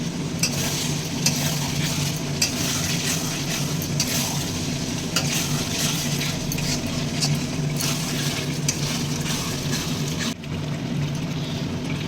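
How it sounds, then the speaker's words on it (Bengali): Marinated chicken stirred and sautéed in a hot pan, a steady sizzle under continuous scraping and stirring for the whole stretch, close and fairly loud, with no voice. "চিকেনটা দেখো ভালোভাবে কষিয়ে নিয়েছি আমি অনেকটাই।"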